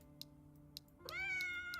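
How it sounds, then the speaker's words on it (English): A cat in the video game Road to Vostok, found inside a bunker, gives one clear drawn-out meow over a quiet game background with faint ticking clicks. "I did actually find the cat. It was in one of the bunkers."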